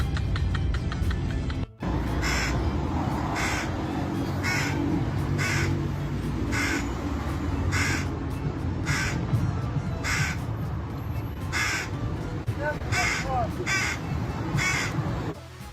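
A crow caws loudly and close, a long string of harsh calls at a steady, regular pace over a busy outdoor background, with no speech.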